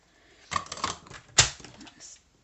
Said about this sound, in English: I'm just going to trim a little bit off using my big scissors,